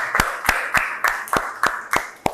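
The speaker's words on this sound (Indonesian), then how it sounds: "tepuk tangan dulu buat kelompok kalian" A classroom group is applauded with about eight sharp, evenly spaced claps over a couple of seconds, fairly close and loud. No voices accompany them.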